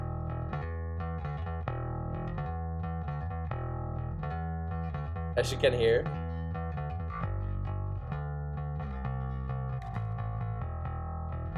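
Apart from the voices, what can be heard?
bass guitar part of a song in GarageBand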